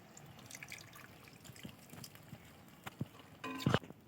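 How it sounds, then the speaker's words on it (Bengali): A bowl of water is poured into a cabbage and egg dish cooking in a pan, with faint bubbling and trickling that ends in a short, louder splash and sizzle. "দেখো এবারে 1 বাটি জল দিয়ে দিলাম।"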